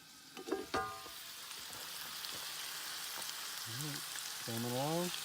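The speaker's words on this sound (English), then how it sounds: "Cast iron cooking." Food frying in a cast iron pan at an off-grid hunting camp, giving a soft, steady sizzle throughout with a few clinks near the start and tonal squeaks toward the end.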